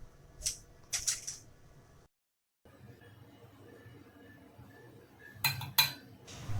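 A spoon stirs a chicken lollipop batter slurry in a bowl, giving a few sharp metallic clinks near the start and again near the end, with quiet scraping between them.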